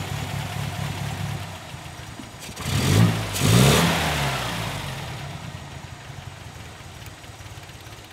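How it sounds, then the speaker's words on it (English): An MGA engine with the choke pulled runs at a raised idle of about 1800 RPM, a steady mid-pitched drone with a short louder swell partway through, heard alone. "if we pull up on our choke, it increases our RPM to about 1800"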